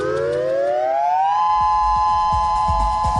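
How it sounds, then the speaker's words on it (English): A loud, steady tsunami warning siren wails, rising in pitch and then holding a sustained tone, with faint rumbling and clatter underneath. "Sirens sound alarms when a killer wave is going to strike land."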